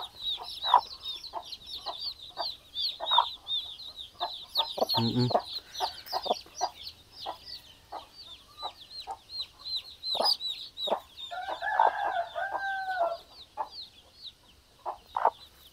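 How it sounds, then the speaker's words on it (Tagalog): Chicks and hens of a laying flock cheep and cluck continuously nearby, with rapid clucking runs, a brief low thump midway, and a short crowing-like call near the end. "Yan daming sisiw ng sampin"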